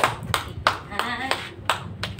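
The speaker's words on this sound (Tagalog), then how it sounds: "Pwede po ba natin siya bigyan ng milyong-milyong palakpak?" A small audience claps at a business presentation in Panabo City, with sharp separate hand claps in a loose, uneven rhythm and a voice briefly heard among them.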